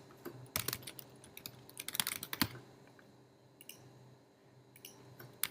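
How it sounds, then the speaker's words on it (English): Quiet computer keyboard typing in short irregular bursts of clicks, with pauses between runs of keystrokes, heard alone. "Now in this targeting, I just type in"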